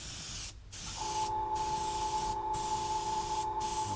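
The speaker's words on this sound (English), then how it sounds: "Over that, I'm going to mist it with some blue." Spray misting blue paint onto a 1/3-scale 3D-printed Venom bust: a continuous close airbrush hiss broken by four brief regular pauses.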